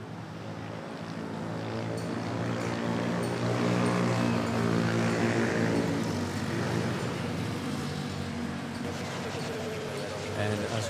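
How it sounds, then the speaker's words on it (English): A Cebu Pacific Airbus A330neo arriving from Puerto Princesa touches down at Manila Airport, its jet engines roaring in a sustained, broad, loud rumble that swells and holds steady throughout. "Now we have a Cebu Pacific arriving from Puerto Princesa, touching down A330"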